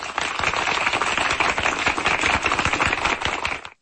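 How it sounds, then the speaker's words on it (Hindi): A group of students clapping hands together in a classroom, dense continuous applause for a few seconds that stops abruptly, loud and close with no voices. "सब लोग ताली बजाओ।"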